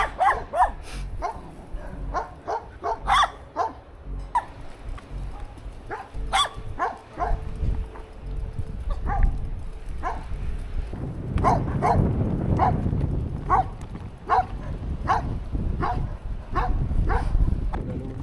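Several dogs bark repeatedly in sharp bursts, some nearby and some farther off, with a constant rumble of outdoor noise underneath.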